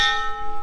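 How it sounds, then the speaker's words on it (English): A bell at a house-building site in the Philippines rings out in a single loud ringing stroke with a long, decaying metallic tone. "there's the bell. That's merienda time."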